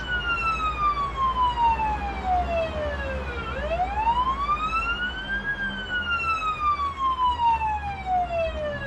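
An ambulance siren wails in a paramedic driving game, rising and falling in long, loud sweeps close by over a constant engine rumble, with no voices.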